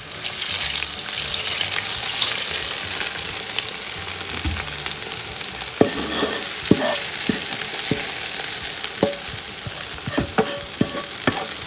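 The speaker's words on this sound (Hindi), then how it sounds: "तो हम इसको लाइट ब्राउन करेंगे तड़के के लिए।" Oil sizzles steadily in a pan as onions fry to light brown for tempering chicken haleem, with occasional scraping and stirring clinks from a utensil, no talking.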